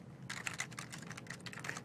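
Typing on a computer keyboard while entering code into Visual Studio, a quick irregular run of close-up key clicks and taps over a faint room hum, with no speech.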